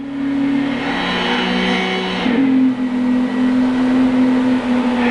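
Race car engine lapping Brands Hatch Indy circuit in Gran Turismo 6, a loud steady droning whine that shifts pitch midway as the car changes gear, continuous and close with no talking.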